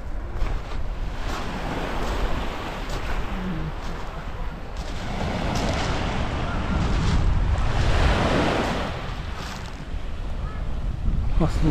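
Sea surf breaks on a pebble beach at Alushta in Crimea in winter, a continuous wash of waves that swells and recedes, with wind noise on the microphone.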